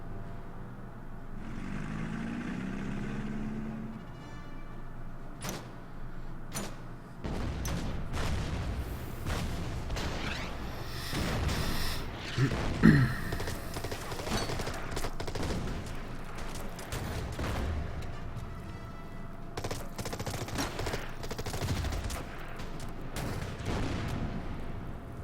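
Artillery fire in the strategy war game Order of Battle, Market Garden campaign, with repeated booming blasts and scattered gunfire bursts spread over a rumbling battle backdrop, no talk.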